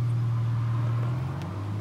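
A manual-transmission car engine held at steady revs as the clutch is let out, a loud low drone that dips slightly in pitch near the end, heard from inside the car without talking.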